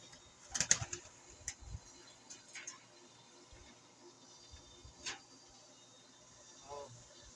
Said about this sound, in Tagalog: Ito nga pala yung ibon